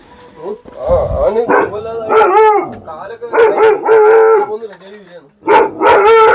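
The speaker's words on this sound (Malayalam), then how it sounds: "രണ്ട് നായ്ക്കളുണ്ട് തന്നെ കാവൽ" One of two guard dogs at a lone house deep in a forest barks and howls loudly and close, in repeated drawn-out bursts with brief pauses between them.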